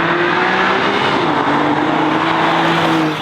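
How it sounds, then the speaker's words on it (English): A race car at speed on a track, its engine a loud sustained drone with shifting pitch, close and constant throughout with no voices. "this car is unbelievably fast"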